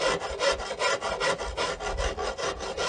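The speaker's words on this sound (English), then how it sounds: "I like the consistency that the fine side of my Farrier's rasp gives me" Fine side of a farrier's rasp filing the corner of a wooden self bow, a steady series of close, rhythmic raspy strokes at roughly regular intervals with no voices.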